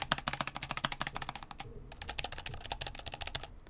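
Keyboard keys with stabilizers being pressed in quick repeated taps, a close, crisp clacking rhythm with a short pause midway and no talking.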